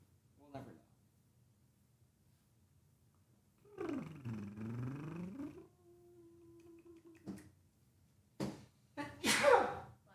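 A single sharp sneeze rings out near the end, preceded by a cat's drawn-out meow and soft talk in a quiet room.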